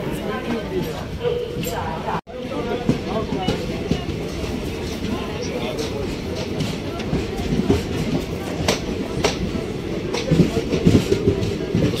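Ranakpur Express passenger train rolling along the rails at steady speed, a continuous close rumble with rhythmic wheel clatter throughout, one brief dropout near the start, and voices faintly mixed underneath.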